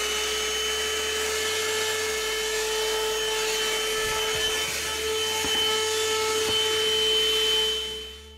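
A portable car vacuum cleaner runs steadily inside a vehicle over WeatherTech floor mats, pulling up dirt. A continuous moderate whine with a steady tone holds throughout, with faint rattles of debris. The motor winds down at the very end.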